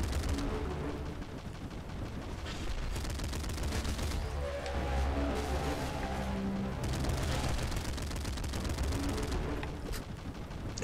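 Dense gunfire from the Nuclear Throne video game, rapid overlapping shots and bursts filling the whole stretch at moderate loudness with no pauses.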